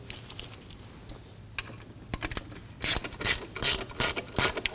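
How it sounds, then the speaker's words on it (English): Ratchet tightening the jam nut on the AC serpentine belt tensioner of a 2003-2006 Subaru Baja 2.5L H4, sharp rapid clicking that begins sparse and then comes in loud repeated bursts of pawl ticks, close up, with no talk. "tighten down the jam nut"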